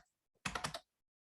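A short, close burst of keystrokes on a computer keyboard entering measurements into CAD software, about four quick clicks in under half a second, then silence.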